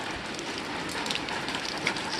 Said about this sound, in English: And boy, is it raining today.